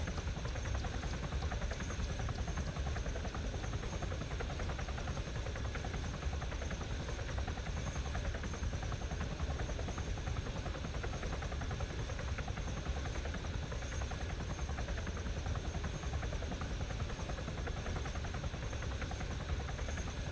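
Helicopter flying in the video game Arma Reforger, a steady, dense rotor and engine roar that holds constant and loud throughout with no pauses or talk.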